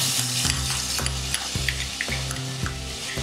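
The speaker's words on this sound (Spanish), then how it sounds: "Comencemos fundiendo 2 cucharadas de margarina. Agregamos la cebolla." Chopped onion frying in melted margarine, the first step of a margarine rice dish, producing a dense, loud sizzle with rhythmic stirring scrapes roughly every half second over a low steady stove hum.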